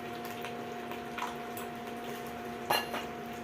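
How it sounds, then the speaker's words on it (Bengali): A lid is set on a cooking pot of spinach, making a sharp metallic clink near the end after a couple of lighter taps, over a faint steady hum in a home kitchen. "এবার ঢাকা দিয়ে দিলাম।"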